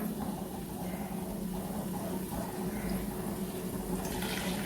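Boiling water is poured into a pot of chicken curry, a faint steady liquid rush and splash that continues throughout without any talk.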